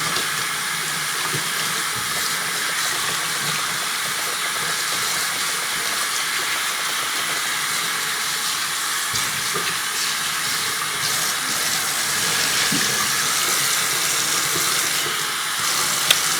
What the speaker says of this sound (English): And I just run the water over it really quickly.